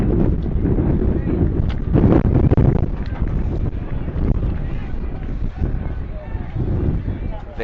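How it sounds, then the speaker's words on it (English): Strong wind buffets the microphone at an outdoor high school state championship baseball game in Ozark, Missouri, a loud continuous roar with gusty surges, while a commentator talks over it. "Very windy day out here in Ozark, Missouri."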